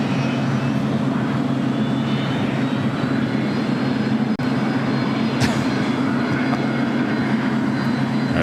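An airplane taxis at LAX airport, producing a steady, loud low-pitched engine drone with a broad rushing hiss that holds evenly throughout, with no voices.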